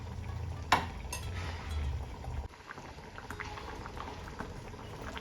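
Village-style egg sambar with whole boiled eggs simmering in a pot, giving a soft bubbling and hissing boil. A brief clatter comes early, then the bubbling grows quieter and thinner.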